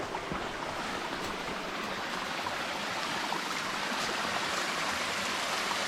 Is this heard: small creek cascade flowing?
yes